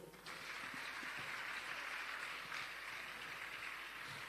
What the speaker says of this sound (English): Can we just clap?